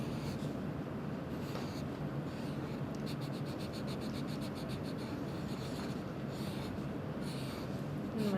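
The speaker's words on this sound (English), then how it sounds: "So I'm going to draw my eyes here." A pen or marker drawing eyes on paper, heard as soft, close scratching strokes with a rapid run of short ticking marks in the middle, steady and quiet, with no talking.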